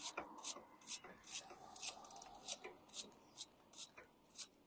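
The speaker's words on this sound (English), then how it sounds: "Now we're going to take the brush side and do the same thing, but just kind of get all the gunk off there." A brush scrubs grime off an e-bike chain as the pedals turn backward. Short rhythmic scrubbing strokes repeat about twice a second, close and fairly quiet.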